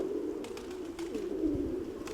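A pigeon coos steadily nearby in a loft, low rolling phrases with faint background noise and no talk.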